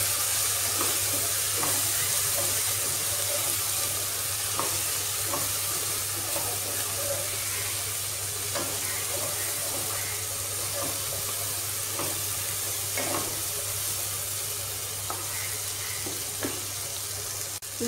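Egg bhurji sizzles and fries steadily in a pan after salt and chili powder go in, with scattered soft scrapes and taps of stirring over a constant frying hiss, close and continuous, no talking.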